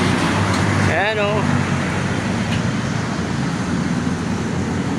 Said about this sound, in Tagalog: Dami sasakyan dito sa C6.